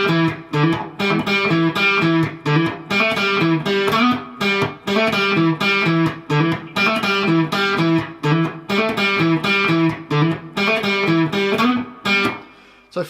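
Electric guitar playing a riff, a loud, continuous run of plucked notes with hammer-ons in a steady repeating rhythm, slightly distorted, with no talking.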